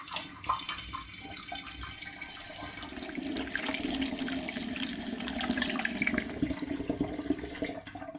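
Home-brewed gooseberry bitter at 7% ABV pours from a jug through a filter into a demijohn, a steady faint trickle and splash of liquid that builds slightly and continues throughout.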